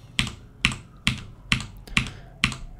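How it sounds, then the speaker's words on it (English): An 808 drum machine rim shot sample fires on a steady loop, six short sharp clicky hits spaced about half a second apart, clear and alone with nothing else sounding. "I've just got a simple 808 rim shot loaded up here, and I'm just gonna trigger it at the start of this loop"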